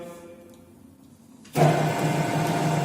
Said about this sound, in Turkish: Şu an bunu ee, çalışır vaziyette bakalım. Tezgahımı çalıştırıyorum.